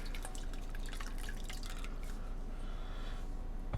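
Warm water dripping and trickling from a microfiber cloth dipped in a soapy basin, a steady patter of close, distinct drops over several seconds with no voices.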